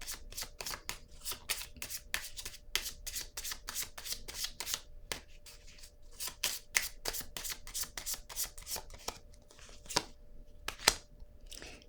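A deck of cards being shuffled and cut by hand, a rapid series of crisp riffles and slaps repeating in quick bursts for several seconds, close and clear with no talk.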